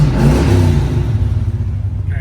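A 1979 Pontiac Trans Am idles with a deep, steady rumble close by, surging briefly in a rev near the start before settling back into a loud, continuous low drone.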